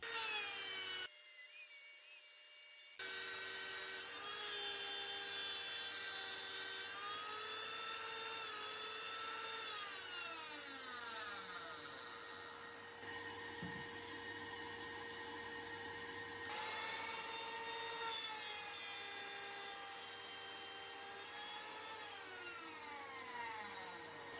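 A palm router with a circle-cutting jig whines steadily as it cuts a small wooden circle, a sustained high-pitched motor drone with shifting rasping tones as the bit moves through the wood, pausing briefly near the start.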